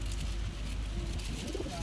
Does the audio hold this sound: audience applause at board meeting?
no